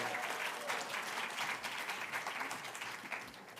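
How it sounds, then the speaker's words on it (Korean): A church congregation claps to welcome a speaker at a Sunday worship service, a full, even wash of applause from many hands that continues steadily and eases slightly at the end. "큰 박수로 모시겠습니다."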